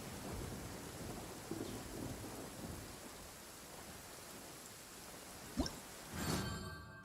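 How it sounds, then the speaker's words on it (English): In the video game Genshin Impact, steady rain hisses throughout at low level, with a few brief thumps and a swell of rumbling thunder near the end. "It's raining."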